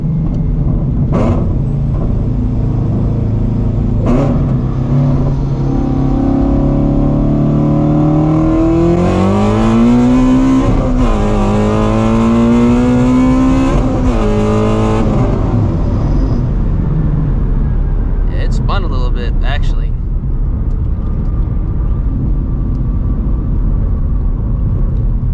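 Supercharged Ford Shelby GT350 launching hard with its Nitto tires spinning briefly, a loud sustained engine roar climbing through the revs before easing off, heard close from inside the car.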